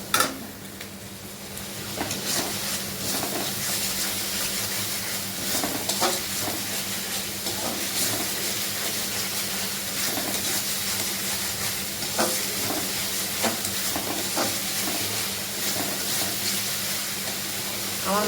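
Salted spice paste sautés in oil in a pan, a continuous close frying hiss with faint scraping stirs running throughout.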